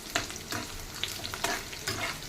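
Avocado and garlic fry in a pan, with a soft background sizzle broken by several brief stirring scrapes, quiet and close with no talking.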